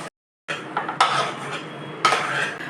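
Vegetables sautéed in butter in a kadai: after a brief silence, a utensil scrapes and clanks against the metal pan in several short bursts, with only a faint sizzle underneath.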